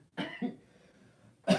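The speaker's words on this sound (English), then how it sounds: "you can make yourself cough" A man coughs on purpose, two quick close coughs and then a third sharp cough after a short pause, each abrupt and loud against near silence.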